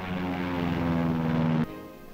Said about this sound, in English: Meanwhile, overhead, Air Force and Marine Corps planes support the ground troops.